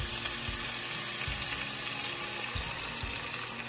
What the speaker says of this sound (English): Okay, let's add our water.